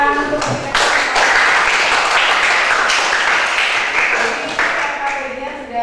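Classroom applause during a lesson, a burst of fairly loud, dense clapping from a group of students that holds steady for several seconds before tapering slightly.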